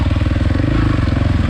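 A Suzuki RMZ450 dirt bike engine thrums close by in a steady, rapid four-stroke pulse with a throaty low rumble, holding an even note throughout the short stretch.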